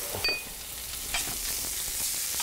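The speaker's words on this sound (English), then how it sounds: "And we're gonna throw some garlic in." Garlic hits hot olive oil in a pan while skate is cooked, giving a steady close sizzle broken by a couple of sharp metallic clinks and stirring scrapes, with no voice.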